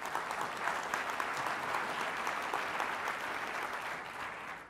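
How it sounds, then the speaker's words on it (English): Conference audience applauding sponsors, a dense, even round of many hands clapping together that holds steady for several seconds and then starts to fade. "Let's give them a big round of applause."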